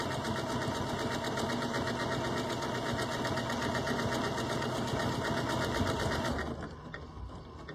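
A sewing machine stitches a long decorative eyelet pattern on fabric, running in a steady fast rhythm of close needle strokes for about six seconds before stopping abruptly and leaving quiet.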